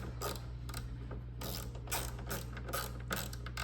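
Rapid ratchet clicks in short bursts as taillight fasteners are snugged down on an S650 Mustang, fairly close and steady with no talk over them.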